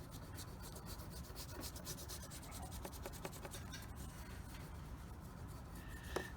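Crayon rubbing on paper to blend turquoise into a sky, a soft, steady scratchy stroking close up, quiet and continuous with small strokes, no speech.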